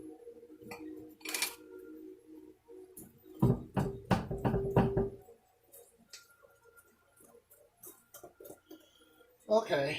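A spoon mixing peach pudding dough in a bowl, a burst of quick, close scraping taps against the bowl lasting a couple of seconds, with someone talking briefly before and after.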